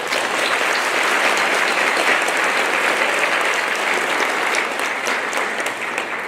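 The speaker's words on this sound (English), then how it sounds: "I would like to ask you for a round of applause" A graduation ceremony audience at Dr. Norman Bethune Collegiate Institute gives a loud, sustained round of applause that holds steady for several seconds before tapering slightly.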